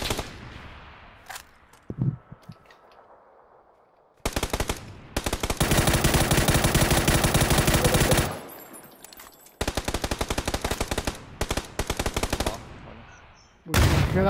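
Long bursts of rapid automatic gunfire in a video game crackle loudly, broken by short pauses, with a few scattered single shots and faint voices at the start.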